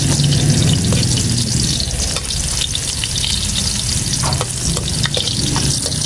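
Ginger frying in hot oil in a pan, a loud, steady sizzle with stirring scrapes and clicks running throughout, no voices.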